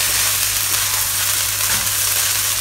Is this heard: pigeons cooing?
no